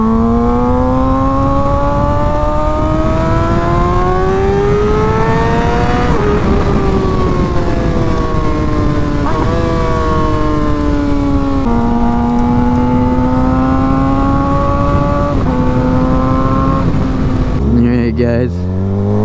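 A Suzuki GSX-R600 motorcycle with a new aftermarket exhaust revs hard toward 16,000 RPM. The loud, close engine howl climbs and dips in pitch again and again, then cuts off sharply near the end.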